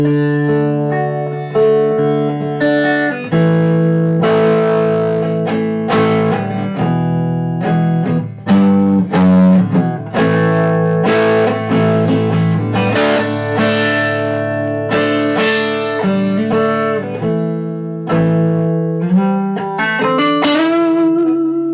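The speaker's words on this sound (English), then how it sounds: "Just have a listen to some of the resonance on this guy. It's a beautiful semi-acoustic." A custom-built semi-acoustic guitar with integrity pickups, played on the neck pickup, rings out alone in warm, resonant chords and picked single notes with a slight twang, sustained and close throughout.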